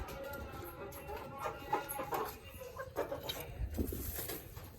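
Chickens let out of a coop on a farm, with scattered clucks and bird calls over a busy, rustling background of movement and wing flapping, fairly close and continuous.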